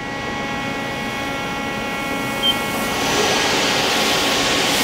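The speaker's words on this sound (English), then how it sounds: "And we'll run the spindle." The spindle of a Mori Seiki DuraTurn 2550 CNC lathe runs with a steady, loud whine that holds nearly constant and rises slightly toward the end.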